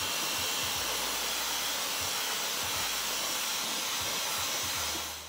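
A hair dryer blows steadily on wet type 4 natural hair during a wash-and-go stretching step. It gives a continuous close, loud hiss with a low rumble that flutters as the dryer moves, with no talk.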